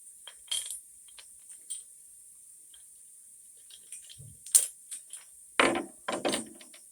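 A small metal key turns in the valve of a portable oxygen tank, giving a handful of sharp, close clicks and ratcheting metallic ticks in short bursts amid near-silence.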